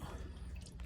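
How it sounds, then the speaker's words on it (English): Motor oil dripping from the drain of a 2019 Toyota RAV4 during an oil change, a steady close liquid trickle with faint splashy drips and no talk. "you see how the oil's still dripping out"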